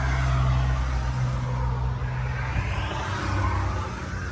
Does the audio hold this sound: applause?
no